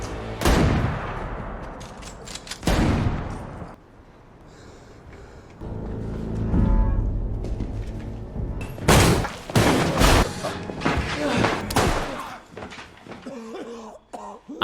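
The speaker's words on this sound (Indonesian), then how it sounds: "Ellie pun memberanikan diri keluar dari ruangan dan menggunakan pistolnya untuk menembak bandit" Pistol shots ring out in The Last of Us as Ellie fires on a bandit: several sharp, loud bangs spread across the scene, some isolated and some in quick clusters, amid rumbling game sound.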